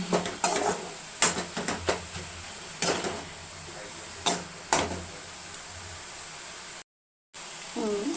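Greens with egg stir-fried over full flame, a spatula scraping and clinking against the pan in quick bursts, close and fairly loud over a steady background hiss.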